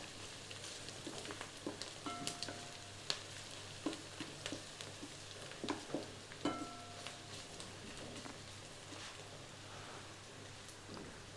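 Onions frying in masala in a pan, stirred with a wooden ladle: a soft steady sizzle with scattered light scraping knocks and clicks, fairly quiet and close, no voices.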